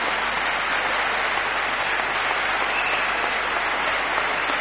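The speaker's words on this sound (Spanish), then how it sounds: "Le pido un aplauso, por favor, nuestra compañera en la SER" Applause for a radio colleague at a live mystery-themed show in Lugo, a dense, even roar of clapping from a large crowd, sustained for several seconds with no talk.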